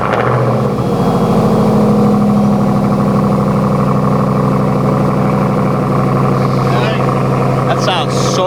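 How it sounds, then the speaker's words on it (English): A Ram TRX pickup fitted with an AWE exhaust cold-starts and settles into a loud, deep, rumbling high idle, steady and close, with people talking briefly near the end. "New cold start incoming."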